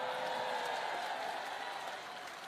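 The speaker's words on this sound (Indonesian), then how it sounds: "Tapi sebenarnya jangan tepuk tangan." Audience applause at a speech by the governor of West Java: a dense, continuous wash of clapping from a crowd that holds steady, then eases off slightly near the end.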